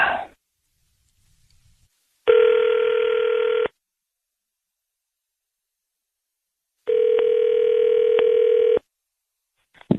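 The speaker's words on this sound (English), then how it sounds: "Let's get this line dialed" A telephone line on a radio call-in prank sounds two long, steady electronic tones separated by silence, like ringback or dial tones heard close and clear, with a brief fragment of sound at the start and end.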